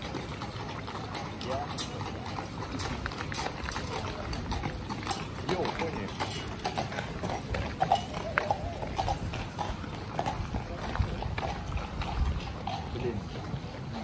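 Horses' hooves clip-clop steadily on pavement near a fountain in a Czech town, mixed into a busy outdoor bed of crowd murmur and splashing water.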